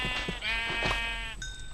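A Minecraft sheep bleats twice in quick succession, loud and close, with a higher-pitched electronic tone and faint rustling after.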